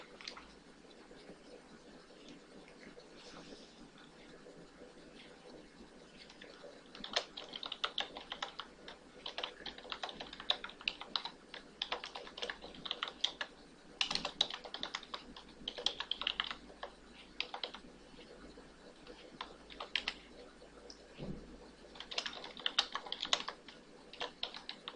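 Steady typing on a computer keyboard while writing program code, soft irregular key clicks running throughout, close and quiet, with no one talking.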